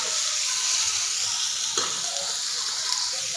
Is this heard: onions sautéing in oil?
yes